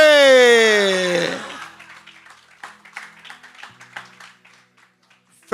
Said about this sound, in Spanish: Dale un aplauso al que vive para siempre